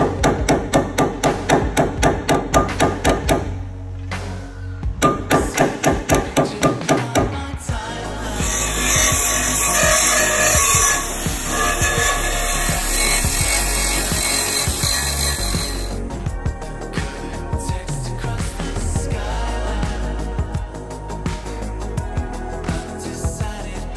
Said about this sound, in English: give them a hit with the hammer